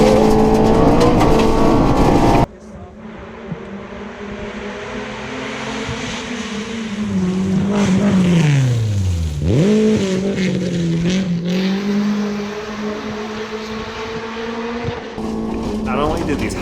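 A high-horsepower rally car at nearly 100 mph on a fast blind-rally road, its engine roaring loud and close with a sharp pitch drop around a crest before it climbs back to a steady drone.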